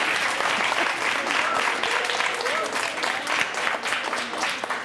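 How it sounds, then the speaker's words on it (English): An audience at a talk about witnessing President Kennedy's 1963 visit bursts into sustained applause, a dense, even wash of clapping that continues throughout. "that's worth some applause there"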